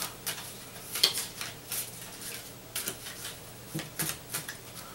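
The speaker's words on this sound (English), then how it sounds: "Alright, so we're going to kind of do a little bit more shuffling here." A deck of cards for the Legendary deck-building card game is shuffled by hand, giving a run of quick, soft papery riffles and taps, close and fairly quiet, with no talking.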